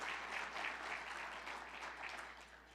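Audience clapping at an annual breakfast event, a sustained burst of many hands applauding that slowly tapers off.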